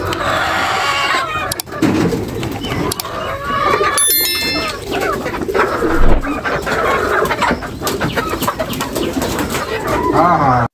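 Pigeons coo amid a busy poultry yard, their soft, repeated calls mixed with clucking and scattered clatter throughout.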